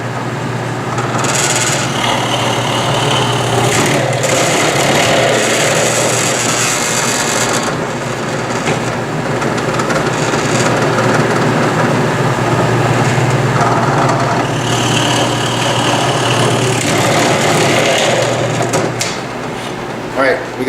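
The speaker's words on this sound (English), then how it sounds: "We're just going to drill these for the bolt holes now." Drill boring bolt holes in wooden bucksaw parts, a sustained whirring grind with a pause mid-way before the cutting resumes, loud and close, with some talking.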